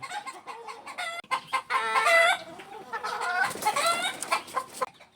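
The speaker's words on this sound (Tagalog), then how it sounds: "Nangitlog na pala yung isa. Kaya pala putak ng putak dito." A hen cackles loudly and repeatedly after laying an egg, her clucks rising into a run of insistent calls at close range with no talking.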